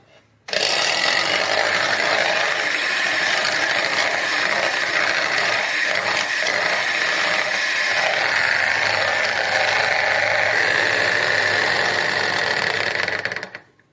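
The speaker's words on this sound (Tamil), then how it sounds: "நாம எடுத்து வச்சிருக்க இந்த 4 முட்டையும் ஃபர்ஸ்ட் நல்லா பீட் பண்ணிடலாம்" Electric hand mixer beating four eggs for a homemade cake, a loud continuous whirring buzz that switches on abruptly, holds steady for about thirteen seconds and cuts off near the end.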